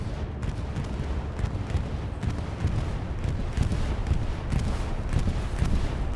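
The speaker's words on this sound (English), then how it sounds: "It's an Axis bombing run coming over to the back of artillery better." Axis bombing run explosions in the World War II shooter Hell Let Loose on the Omaha Beach map, heavy overlapping booms and deep rumbling blasts in a continuous loud barrage.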